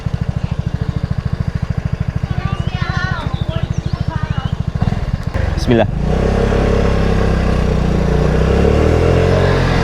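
Lambretta X250 scooter idling with a steady pulsing engine beat, then revving and pulling away on a village road, engine note rising and holding loud and close; someone speaks briefly over it.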